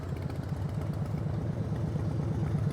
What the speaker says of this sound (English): The bike is puttering